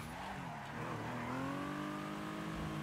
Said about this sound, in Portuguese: dá pra fazer uns drift da hora aqui